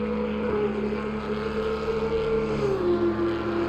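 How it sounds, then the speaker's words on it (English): A GT race car in Assetto Corsa Competizione on the Nürburgring GP circuit passes by, its engine tone sliding downward in pitch over a steady mechanical drone, moderately loud and free of speech. "Right, we heard a car go by there."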